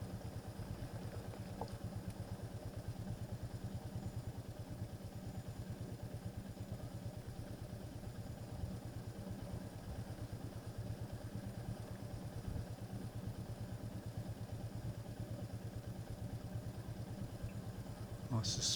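A motor vehicle engine drones steadily and evenly while riding along a very narrow lane, a faint, continuous hum that holds the whole way through with no change in pace.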